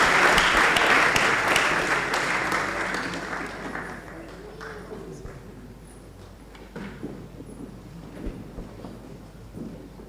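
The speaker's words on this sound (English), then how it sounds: "applause is free, and so we can do it better" Applause from an audience at an academy launch evening swells loudly at first, then fades into scattered claps and crowd murmur with a voice briefly audible underneath.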